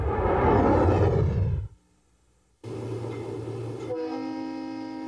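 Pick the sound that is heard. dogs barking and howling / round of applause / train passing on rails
train passing on rails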